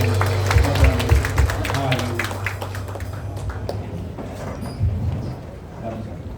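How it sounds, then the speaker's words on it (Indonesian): A church congregation claps briefly in a burst of applause that tapers off, with a voice speaking over it. "Boleh tepuk tangan."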